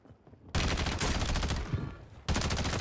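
Bursts of BAL-27 rifle fire in Warzone: two long, rapid automatic strings, loud and close, separated by a brief pause after a quiet start.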